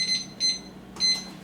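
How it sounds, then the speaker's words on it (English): A kitchen timer being set while smoking a stuffed pork loin gives three short, high electronic beeps in a brisk uneven rhythm, close and clear, with no voices. "we'll set our timer for an hour"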